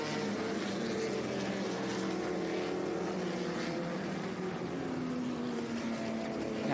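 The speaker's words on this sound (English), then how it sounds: "away goes the McLaren in the Papaya, number 4, into the lead" A McLaren race car in papaya livery, number 4, accelerates away at the start of a vintage sports car race at Laguna Seca, a loud continuous engine roar with rising harmonic tones and crowd-like wash behind it.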